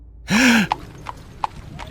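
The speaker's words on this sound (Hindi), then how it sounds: "घोड़े की टापों की आवाज अब उस लकड़ी के पुल पर आ रही थी।" A horse crossing a wooden bridge gives a loud whinny-like cry, then a few widely spaced, sharp hoof clops.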